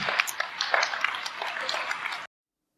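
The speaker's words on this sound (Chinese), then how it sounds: "那你看台下这个热烈的掌声" Warm applause from an audience: dense, steady clapping close up that keeps an even level for about two seconds and then cuts off suddenly.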